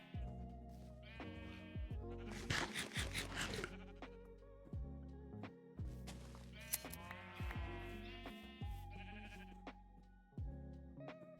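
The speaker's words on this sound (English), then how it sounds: "Keep eating the grass, sheeps." Several sheep bleat in a video game while grazing on grass, their wavering calls overlapping at close range, with soft chewing and game sounds between the bleats.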